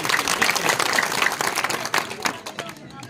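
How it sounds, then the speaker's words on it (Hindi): Villagers applaud to welcome a guest at a village reception in Nimod: a lively burst of crowd clapping, fairly close, fading unevenly toward the end as voices start to come through. "आप सभी जो है तालियों द्वारा स्वागत करें"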